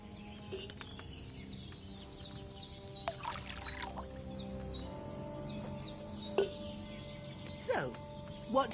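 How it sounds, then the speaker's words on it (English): Wine poured from a pitcher into a cauldron in Kingdom Come: Deliverance 2, a soft, steady trickle under a quiet outdoor ambience of birdsong, with louder splashes near the end. "So, what did you pour in there? Wine, of course."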